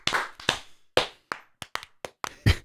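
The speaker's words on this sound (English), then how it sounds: "I'm going to clap." Hands clapping in a handful of sharp, close claps at uneven intervals, separated by brief silences, with no talking.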